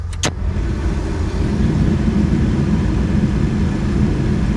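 Upgraded A/C blower fan running inside an old Ford or Chevy OBS pickup truck, a loud steady whooshing roar of rushing air after two quick clicks at the start, continuous and close.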